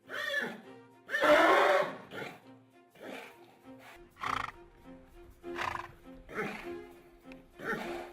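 A nervous, agitated horse neighs and whinnies repeatedly in loud, close bursts of varying length, with short pauses between the calls.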